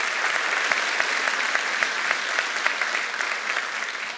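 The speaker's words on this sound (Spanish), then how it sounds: "a quien pido un fuerte aplauso, a la gente de Techo Colombia que nos acompaña" A live comedy talk show audience gives loud, sustained applause, thick clapping with a few sharper individual claps standing out.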